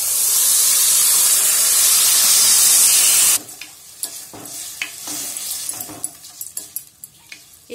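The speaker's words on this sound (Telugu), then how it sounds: "ఇప్పుడు మనం వాష్ చేసిన ఆ బియ్యాన్ని ఇందులో వేసుకోవాలి." Washed rice for Chennai-style hot pongal goes into a pot with black pepper, setting off a loud, dense hissing sizzle for about three seconds. It then drops to a quieter bed of scattered scrapes, taps and clinks.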